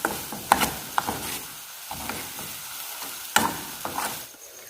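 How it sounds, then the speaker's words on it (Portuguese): Corn couscous is stirred in a pan with a utensil, making repeated scraping and clacking strokes against the pan over a light sizzle, close and irregular in rhythm. "Mexendo até desgrudar da panela."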